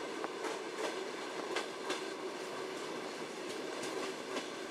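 Trans-Siberian Railway train running on rails, a steady rumbling roll with regular clickety-clack wheel beats over rail joints throughout, heard from inside the carriage.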